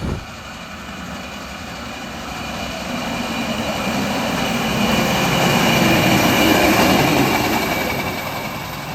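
A rail track inspection car rumbles past close behind a train at Pak Tho station, Thailand, the rolling noise swelling gradually to a loud peak then easing, with a thin high whine above.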